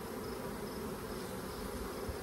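Honeybees crowd a hive frame, giving a steady, dense, close buzzing that holds unbroken throughout with no voices.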